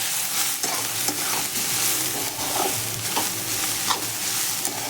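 Spices for egg bhurji fry in hot oil with a steady, close sizzle, while a spoon stirs and scrapes the pan every so often and the hiss comes in small bursts.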